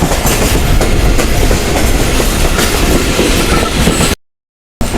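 A passenger train runs on rails near Raiwind on the way to Lahore Junction, with loud, steady rumbling and clickety-clack wheel noise filling the clip before a sudden brief cut to silence.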